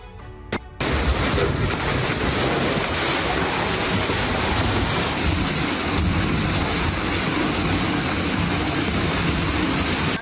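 Floodwater in China surging and roaring as a steady, loud, broadband wash, continuous and dense from start to finish after a brief opening.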